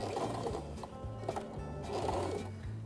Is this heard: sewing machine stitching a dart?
yes